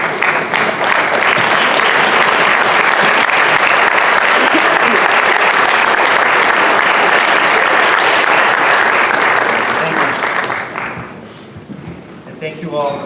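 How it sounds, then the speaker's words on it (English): A standing audience applauds at a Chazy Central Rural School graduation ceremony: dense, loud, sustained clapping from a large crowd that tapers off near the end, with a few faint voices emerging. "Give them a chance for you to stand up and applaud them."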